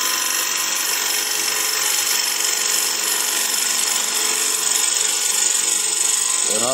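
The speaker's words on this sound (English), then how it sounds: "we'll just start right in there with our bowl gouge" Steady, close whir of a wood lathe as a bowl gouge cuts into a spinning wooden hollow form, a continuous high, hissing scrape with no talk.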